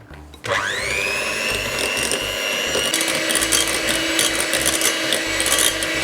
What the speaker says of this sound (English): And then with a mixer, we are just going to mix it up.